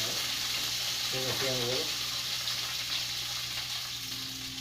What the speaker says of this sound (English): we're going to drop in the green beans